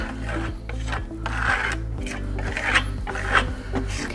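Steel trowel burnishing Grassello lime plaster on a wall as a decorative finish, a steady rasping rub in repeated overlapping strokes, close and alone.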